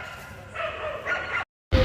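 Dogs barking by a busy highway roadside between Hyderabad and Bangalore, a few short yelping barks close by, one after another, then a brief gap before a louder burst.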